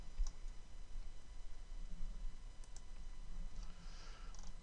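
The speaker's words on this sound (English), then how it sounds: "I'm going to go down and click on Apply." Mouse clicks on an Apply button: a few sharp, faint clicks, one near the start and others scattered later, over quiet room noise with no talking.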